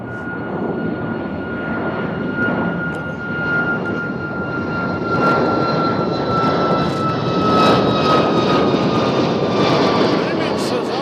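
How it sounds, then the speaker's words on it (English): A jet airliner bound for Baltimore passes overhead near Nashville International Airport, a loud steady roar with a high whine that holds for the whole stretch and swells slightly toward the end. "here's a plane going to Baltimore."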